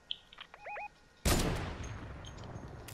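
In Fortnite, a burst of close gunfire aimed at trees follows a few faint chirping game sounds. Rapid loud shots break in and settle into a continuing rattle.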